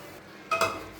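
A spoon stirs shrimp malai curry in a pan after coconut milk, milk and coconut paste go in, giving a short metallic scrape and clink against the pot over a faint sizzle, with no talking.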